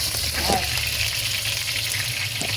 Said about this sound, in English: Oh gosh, I see the oil jumping.